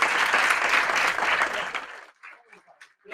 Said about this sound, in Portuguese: Aplausos para Alceli,